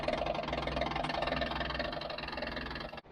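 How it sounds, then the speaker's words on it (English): The electric fuel pump of a 1978 Chevrolet El Camino SS that has sat unused for 20 years runs with a steady, dense, pulsing mechanical drone, loud and close, before cutting off sharply at the end. No one speaks. "That's the electric fuel pump back there."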